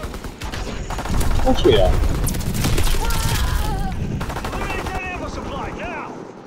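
Sustained automatic gunfire and scattered shots in a WWII-era multiplayer shooter, loud and dense throughout, with players talking over the battle.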